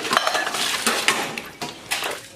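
Dishes, pots and pans clink and clatter during washing in a village home kitchen, with irregular metallic knocks and scrapes close by, no talking.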